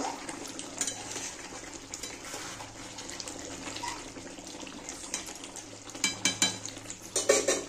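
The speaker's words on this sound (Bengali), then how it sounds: "আবার একটু নেড়ে দেব।" Chicken kosha being stirred in a pan, with quiet scraping and clinking of a utensil against the metal, growing louder and more rhythmic near the end as the spoon knocks the pan.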